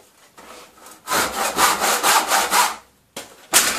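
A handsaw cuts through wood clamped in a vise, with a brief light rub before a run of steady, rhythmic strokes, a short pause, then the sawing starts again close up.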